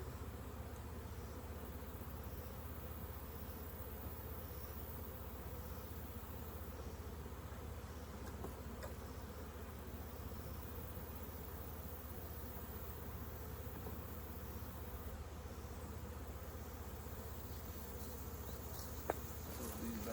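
Honey bees swarming around hives in a Kentucky apiary while weak colonies are being combined, a dense, continuous buzzing drone that stays even and close throughout with no talk.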